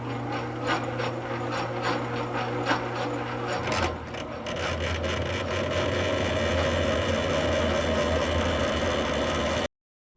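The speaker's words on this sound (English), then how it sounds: "Way too much chatter with this big of a bit." A lathe tool bit cuts a bevel on a rifle barrel during chambering, chattering loudly in a harsh rapid ratcheting rasp that shifts to a steadier grinding whine midway before stopping abruptly.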